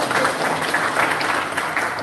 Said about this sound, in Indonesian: Azrul Tanjung, Ketua Umum Garda Matahari, tepuk tangan untuk beliau.